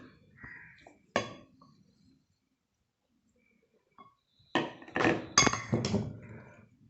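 A vegetable mixture snack is stirred and tossed in a bowl, with a couple of brief clinks and scrapes early on, a pause, then a denser run of clattering and rustling near the end.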